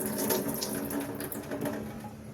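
Water is poured over paneer in a kitchen, a steady close splashing flow lasting a couple of seconds at moderate volume, with no talk.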